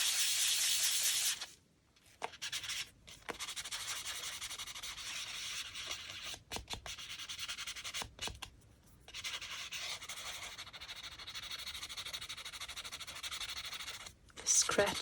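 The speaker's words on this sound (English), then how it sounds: "You basically just sand it a little bit, distress it like so." Colored cardstock being sanded to distress it, close scratchy rubbing strokes in repeated passes with a few short pauses, and low speech faintly underneath.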